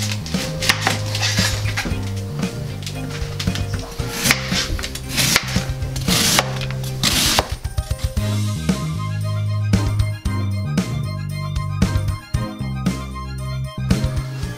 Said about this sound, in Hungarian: Én megkezdek a káposztát vágni.